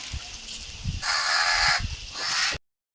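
A crow caws near a family home, two harsh bursts in quick succession that stand out over faint background noise.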